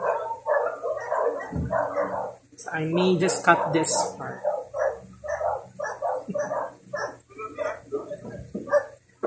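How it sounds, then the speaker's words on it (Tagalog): Dogs bark repeatedly nearby, with some yips and whimpers, while a person talks over them in a steady stream. "Ba yung ingay ng aso? Ba yan?"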